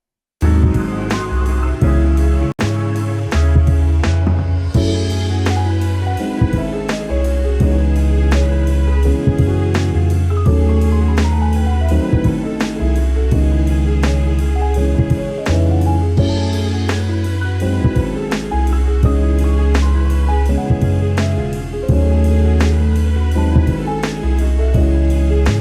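Closing section of a remake, ending in a piano solo over sustained low bass, steady beat and full backing, loud and continuous throughout with no talking.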